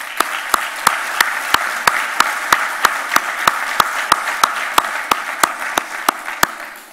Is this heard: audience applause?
yes